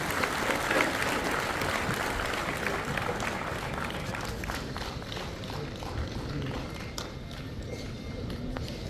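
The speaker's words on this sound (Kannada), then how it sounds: "ಎಲ್ಲರೂ ಚಪ್ಪಾಳೆ ಹೊಡೆಯೋದ್ರ ಮೂಲಕ ಅವ್ರನ್ನ ಸ್ವಾಗತಿಸಿ" An audience at a state conference of SC/ST government employees claps to welcome a minister to the stage, with dense, steady applause filling the hall throughout with only slight variation.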